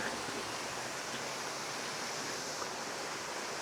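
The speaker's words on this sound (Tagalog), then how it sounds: "Balong Santo Falls. Meron ba ng falls dito." Balong Santo Falls in Bailen, Cavite, gives a steady, even rush of falling water, constant and fairly faint, with no other sounds over it.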